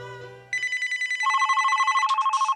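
A mobile phone rings with a bright electronic ringtone: a low tone fades out, then rapid pulsing beeps repeat in a steady rhythm, clear and alone.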